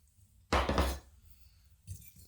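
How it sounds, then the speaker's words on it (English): A fork stirs a yeast mixture into flour for a simple skillet flatbread, giving one loud burst of scraping and clattering at the bowl for about half a second, followed by quiet and a brief softer scrape at the end. "Stir it up a bit with a fork"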